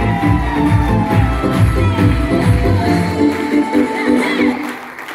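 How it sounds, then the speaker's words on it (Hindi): A crowd at a business event claps and cheers loudly, a thick steady wash of noise with a low crowd murmur beneath, fading away toward the end. "जोरदार ताली बजा लीजिए"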